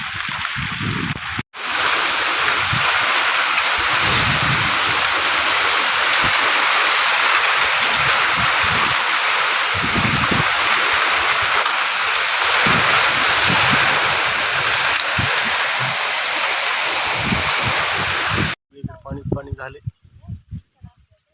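Rainwater rushes across a flooded soybean field after heavy monsoon rain in Maharashtra, making a loud, steady roar with wind buffeting. It cuts off abruptly near the end, leaving softer scattered sounds.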